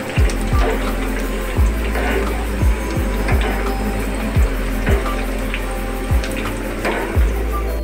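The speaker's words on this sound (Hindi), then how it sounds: "गार्लिक और चिलीज़ हमारे फ्राई हो चुके हैं।" Garlic and green chilies sizzle in hot oil in a home kitchen, a continuous bubbling hiss broken by low periodic thumps, with no speech over it.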